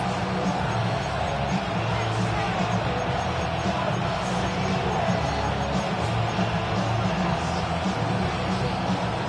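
A football stadium crowd roars steadily ahead of a third-down play, a dense, loud wash of cheering and babble that holds constant throughout with no pauses.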